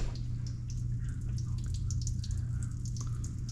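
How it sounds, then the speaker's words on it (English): Oil pours and drips steadily out of a semi truck engine, a faint continuous liquid spatter over a low hum, with no voices. "I just spewed oil everywhere."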